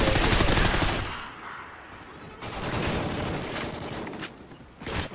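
Loud, rapid bursts of gunfire in a Call of Duty match, heavy at first, then easing into scattered sustained shooting with a final close volley.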